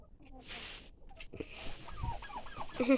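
Chickens and a rooster clucking in a farmyard, a few short near calls and clucks among rustling and low background noise.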